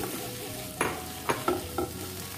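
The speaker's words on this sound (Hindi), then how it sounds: "अदरक को फ्राई करने के बाद अब मैं इसमें कटे हुए मशरूम डाल दूंगी" Sliced mushrooms and grated ginger fry in a pan for a creamy mushroom soup: a steady low sizzle with four distinct scraping strokes as a spoon stirs them, close and clear without talking.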